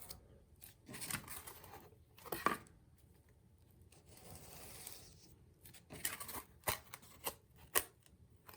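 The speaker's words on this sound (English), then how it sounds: "now I'm going to go ahead and cut this out" Scissors cutting out a paper envelope flap for a junk journal, heard as faint, close snips and paper rustles scattered through a quiet room tone, with no talking.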